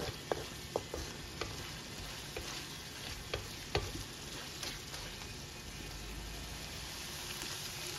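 Meat for Bicol Express fries in its own rendering fat in a pan, giving a continuous close crackling sizzle broken by a few sharp ticks from stirring.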